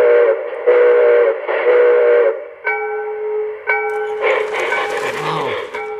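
A 16-pound MTH Proto 1.0 Southern Pacific A-6 cab-forward model steam locomotive sounds its chord whistle in three loud, steady blasts, followed by two shorter toots and then hissing, chuffing engine sounds as it starts moving.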